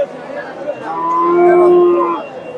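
A bull moos at a cattle market in Bogura, a long, loud, close bellow that rises and fades, with faint market noise underneath.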